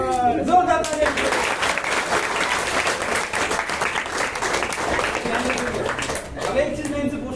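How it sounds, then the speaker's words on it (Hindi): An audience breaks into loud, sustained applause at a stage show, dense clapping filling several seconds, with voices speaking over it at the beginning and end. "जोरदार तालियां।"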